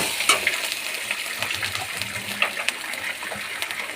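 Spice paste of cumin, fennel, coriander and ginger paste with turmeric and chili powder being fried in oil, giving a steady soft sizzle and bubbling with small scattered crackles throughout, close and moderately loud, with no talking.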